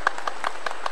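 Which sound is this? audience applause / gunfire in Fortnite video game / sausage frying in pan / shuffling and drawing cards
audience applause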